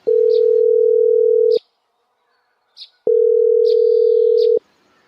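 A telephone line sounds a steady tone after a call is placed, two long even bursts of about a second and a half each separated by a pause, loud and alone with faint chirps in between.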